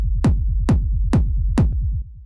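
A hard rave techno kick drum with a rumble tail, pushed through a limiter, pounds four heavy, evenly spaced hits over a constant low rumble, loud and dense with almost no dynamic range.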